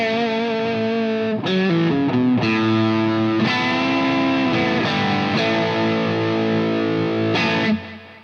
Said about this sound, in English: I like this pedal because it's got overdrive.